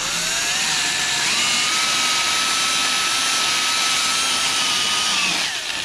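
Power tool deburring the metal of a 1964 Impala fender, a loud continuous high-pitched whine and grinding hiss with slight pitch shifts as the tool bears down, steady and unbroken, no voices.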